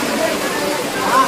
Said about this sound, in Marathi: कसा पाऊस आहे इकडे